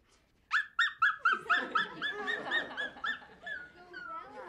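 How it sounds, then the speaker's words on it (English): A small Chihuahua whimpers and yelps in a rapid run of high, nasal cries, close and fairly loud, with a few softer whines trailing off at the end. "Chihuahua."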